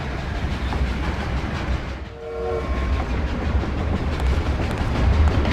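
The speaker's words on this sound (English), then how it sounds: "It's this train that's making me anxious." A train rolls steadily along in the Haunted video game, a loud continuous low rumble with rhythmic clatter and a brief horn-like tone midway, with no one speaking.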